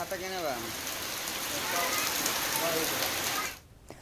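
Heavy downpour in Siwan during a strong windstorm, a steady dense hiss of rain on surfaces lasting several seconds before cutting off abruptly, with brief voice-like tones near the start.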